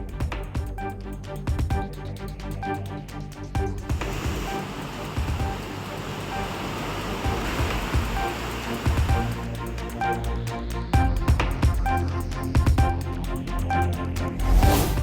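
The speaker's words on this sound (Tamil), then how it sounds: "திருப்பூர் மாவட்டம் உடுமலை அருகே உள்ள பஞ்சலிங்க அருவியில் கடும் வெள்ளப்பெருக்கு." Roaring floodwater pours over the Panchalinga waterfall near Udumalai in Tiruppur district, a steady, loud, dense rush that continues throughout with surging swells and no pauses.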